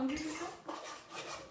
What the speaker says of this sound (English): I'm just doing some dishes